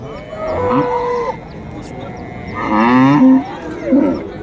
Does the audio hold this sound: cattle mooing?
yes